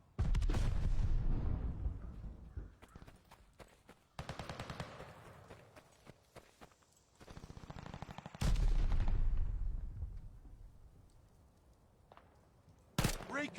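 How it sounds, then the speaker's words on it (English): A sticky bomb explodes in the shooter game Call of Duty Vanguard, a loud booming blast amid bursts of gunfire, with a second heavy blast and rumbling decay later and a final sharp shot. "Tossing a sticky bomb."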